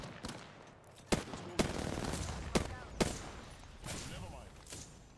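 Gunfire in the video game Apex Legends: several sharp shots at irregular intervals ring out over a steady background of game noise, fairly loud and close.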